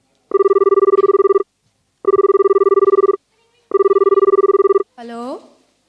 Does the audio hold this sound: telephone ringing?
yes